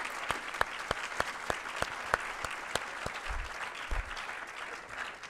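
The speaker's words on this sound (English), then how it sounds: "So let's give a big round of applause to Wayne Chaplin." An audience applauds for Wayne Chaplin at a business school leadership talk, steady clapping from many hands filling the room, fairly loud and continuous with no voices over it.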